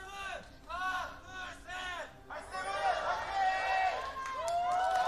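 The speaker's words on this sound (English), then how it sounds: "You hear the cheers from the crowd there." Fans at the 2023 League of Legends World Championship play-in, PSG Talon versus Movistar R7, send up rising and falling cheers and whoops that come in repeated bursts and then merge into a sustained roar.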